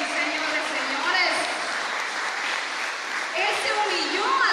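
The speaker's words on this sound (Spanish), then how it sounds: "¿Cuánto pueden darle un aplauso al Rey de Reyes y Señor de Señores?" A church congregation applauding together, steady broadband clapping lasting several seconds with cheering and speech-like voices mixed in.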